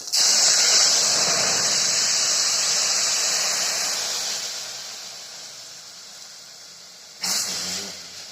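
Tomato cooking water poured into a hot pan of sambar hits with a loud bright sizzle that slowly fades and softens, then flares up sharply again near the end.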